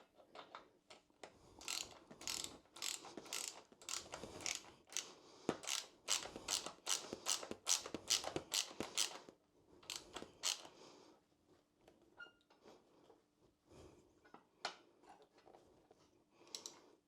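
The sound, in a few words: tightening Triumph Bobber springer seat bolts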